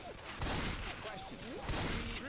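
Gunfire in the modded Left 4 Dead 2 video game, a dense string of shots rattling continuously and loudly, with faint voices mixed in behind.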